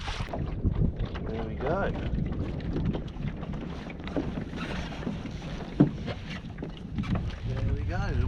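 Mirror dinghy under sail on a creek, with steady wind buffeting the microphone over a constant low rush of water and hull movement, a brief knock partway through, and someone speaking briefly nearby.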